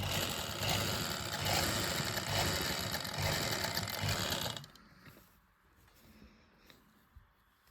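Sewing machine stitching lining onto a sleeve, running steadily and loud for about four and a half seconds before stopping abruptly, leaving faint room noise and a small click.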